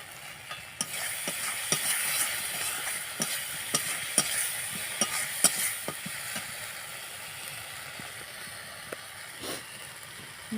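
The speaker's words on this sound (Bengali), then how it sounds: "মশলাটা কষানো হয়ে গেলে এই দেখো তেল ছাড়ছে" Spice paste fries in oil in a pan, a steady soft sizzle broken by sharp intermittent scrapes and taps of a spoon stirring it, close by, quieting toward the end.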